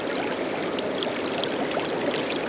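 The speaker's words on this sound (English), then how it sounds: "The final Sweetwater River crossing." Water of the Sweetwater River rushes steadily as it is forded in the Oregon Trail 5 game, a close, continuous wash of flowing water with no voices.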